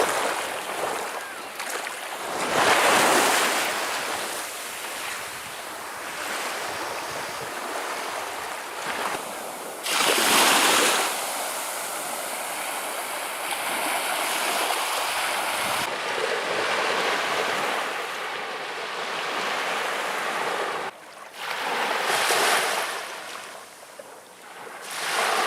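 Ocean waves break at a Chesapeake Bay beach in First Landing State Park in Virginia, with several loud surges washing in and out over a constant hiss of surf and wind.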